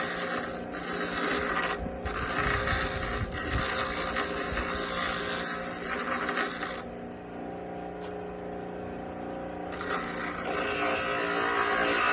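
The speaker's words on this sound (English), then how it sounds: "let's go ahead and take it over to the grinder and take care of that" A bench grinder smoothing a fishing weight made from a railroad spike, a steady mechanical whir with grinding contact that drops out briefly around two thirds through and then resumes, no talk.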